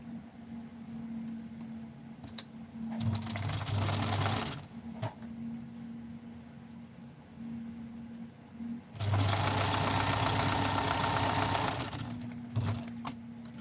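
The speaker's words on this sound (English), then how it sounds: "now we're just going to sew this closed where I flipped it out" A sewing machine stitches an opening closed in two loud, close bursts of rapid whirring, with quieter pauses and faint clicks between the runs and no talk.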